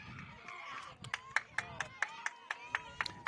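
Softball players cheer a freshman's solo home run with a steady series of rhythmic hand claps and excited shouts and voices, fairly faint and at mid distance.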